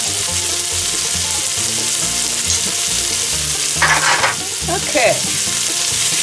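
Vegetables and thyme sizzle and fry in a pan for chicken chili, a steady close crackle with stirring scrapes, and a voice speaks briefly.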